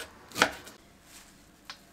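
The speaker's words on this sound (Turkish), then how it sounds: "Yapraklarımızı hep bu şekilde doğrayalım." A single sharp knife chop through grape leaves on a board, then quiet, and a lighter second chop near the end.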